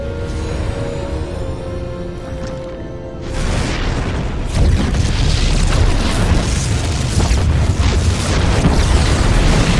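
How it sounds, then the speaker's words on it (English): Heavy booming explosions in the StarCraft II: Heart of the Swarm campaign, a low rumbling blast swelling after a quieter tonal stretch and then rolling on loud and continuous to the end. "The explosions have stopped."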